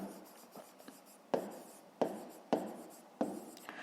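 Pen or chalk strokes scratch across a writing surface while a math problem is worked out, several short rapid scribbles followed by four distinct firmer strokes, close and clear with no talking.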